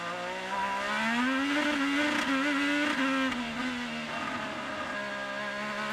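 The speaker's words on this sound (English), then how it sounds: "I just love to listen to the engines here" IndyCar race car engines roar past during a race, one loud engine tone climbing and then falling away as the car passes, followed by a steadier engine drone that carries through to the end.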